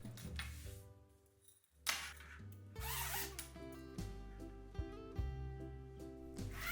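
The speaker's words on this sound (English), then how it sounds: "come with a zipper at the back, so your saris stay completely covered" A zipper slides along a cotton sari storage cover in a couple of scratchy pulls, partly buried under steady background music.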